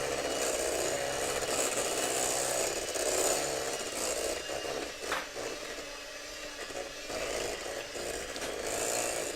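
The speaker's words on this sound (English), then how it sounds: "Electric whisk, here we go." Electric whisk mixing eclair dough, a steady whirring buzz with scraping as the beaters work through the thick batter, running continuously at moderate level.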